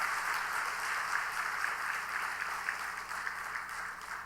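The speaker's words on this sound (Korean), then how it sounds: "우리 박수 한번 하십시다." A church congregation at a Sunday evening service applauds together, a soft, even patter of many hands heard from a distance, steady for a few seconds.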